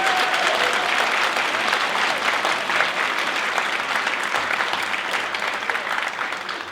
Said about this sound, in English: if you could give them all a big round of applause